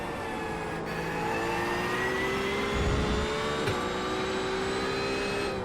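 A BMW GT3 race car engine at Fuji in iRacing, a sustained high whining drone with shifting pitch, briefly jolted by a thump over the curbs before the steady howl carries on.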